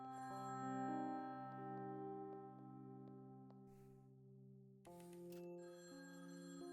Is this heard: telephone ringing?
yes